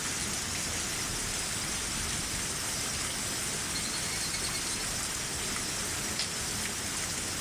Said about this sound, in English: that rain really is coming down.